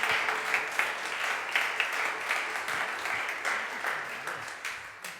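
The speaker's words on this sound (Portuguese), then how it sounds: "Dê uma salva de palmas ao Senhor." A Portuguese-speaking church congregation gives a round of applause during worship: loud, continuous, full-room clapping with a steady rhythmic texture throughout.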